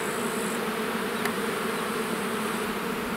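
A dense, steady buzz of many honey bees at the hive close by, continuous and unbroken throughout, with no voices.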